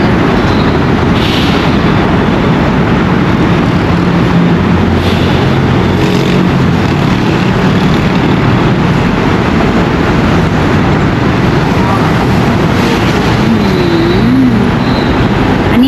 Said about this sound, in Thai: คือรถบรรทุกสินค้านะพี่น้อง มีแต่บรรทุกสินค้าทั้งนั้นเลยเลยนี่